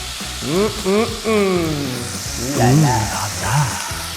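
Meat browning in a hot pan for Jambi-style nasi gemuk sizzles steadily with a bright crackling hiss, while a voice talks over it throughout.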